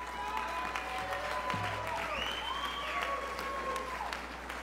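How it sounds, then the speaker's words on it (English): An audience at a university distinguished achievement awards ceremony claps in a steady, even wash of applause, heard at a moderate distance with a faint electrical hum underneath. "hold your applause till we're done"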